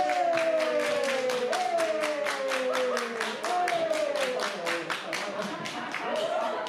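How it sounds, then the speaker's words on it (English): People at a church watch party clap their hands in time, a brisk steady beat of sharp, evenly spaced claps over a sung melody and music playing throughout. "Everybody clap your hands."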